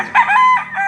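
At a Padre Garcia, Batangas market, a gamefowl rooster lets out a loud, close crow in a short, uneven burst that nearly fills the moment.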